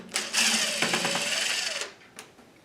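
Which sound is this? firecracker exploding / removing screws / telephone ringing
removing screws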